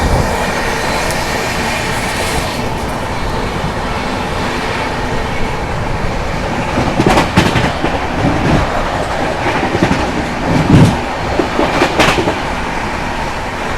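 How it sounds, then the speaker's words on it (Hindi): The Karnataka Sampark Kranti express races along at speed, a loud continuous rumble of wheels on rail with rhythmic clickety-clack and occasional sharp rattles, heard from on board with no voices. "यहाँ पर अपनी कर्नाटका संपर्क क्रांति आ चुकी है अपने असली रूप में भाई, क्या ताबड़तोड़ भाग रही है"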